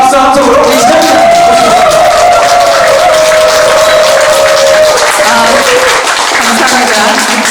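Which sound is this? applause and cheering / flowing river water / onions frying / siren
applause and cheering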